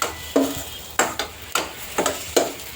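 Onions for spicy Yippee noodles sauté in a pan while a spoon stirs them, giving about five or six distinct scraping clacks at irregular intervals over a soft background sizzle.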